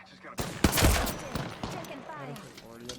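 Gunfire in Apex Legends: a loud burst of rapid shots, several sharp cracks clustered near the start, then scattered fainter reports and game effects trailing off.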